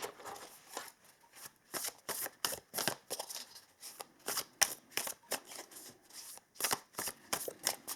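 Tarot and oracle cards being shuffled and drawn, a close, quiet run of crisp riffling and flicking bursts in an irregular rhythm, with no talking.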